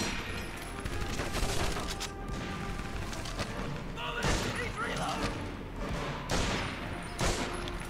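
Gunfire in the Medal of Honor: Vanguard war video game, a busy stretch of repeated shots and impacts with sharp bursts around the middle and later, mixed under a voice talking over the game.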